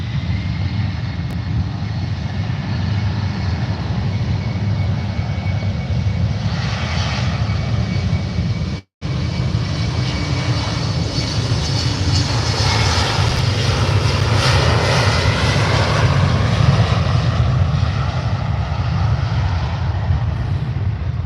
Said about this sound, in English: Here we go, KLM on the roll to Amsterdam Schiphol.